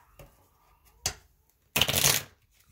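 A deck of tarot cards being shuffled, with a couple of brief soft riffles followed by a louder, fuller shuffle lasting about half a second, close and clear with no talking.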